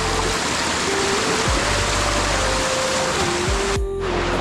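A waterfall near Bhal village roars with a dense, continuous rush of falling water, loud and close, steady throughout.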